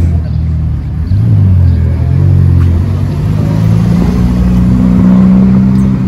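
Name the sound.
Ferrari F12 TDF sports car driving and revving on road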